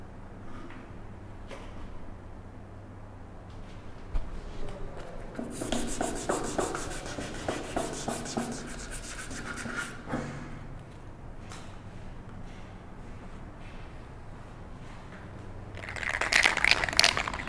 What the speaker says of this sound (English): So right after you sand it with 400,